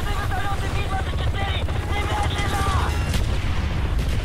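Helicopter rotors chop through a battle in the Vietnam campaign of the video game Call of Duty Black Ops 1. They blend into loud, dense gunfire, booming explosions and in-game shouting.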